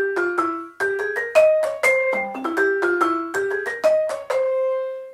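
Vibraphone phrase from a jazz tune, a run of bright struck bar notes with ringing sustain and a long held final tone, played alone and clearly.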